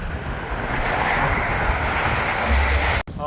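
Sea waves washing and surging loudly and continuously, mixed with strong wind buffeting the microphone, close and steady with no voices.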